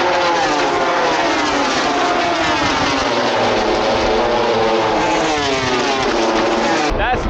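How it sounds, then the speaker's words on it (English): Moto2 racing motorcycles on warm-up laps at the COTA circuit roar past in a loud, continuous high-revving engine scream. The pitch sweeps as the bikes shift gears, and the sound cuts off abruptly at the end. "Moto 2 doing some warm up laps."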